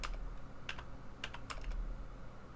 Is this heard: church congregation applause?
no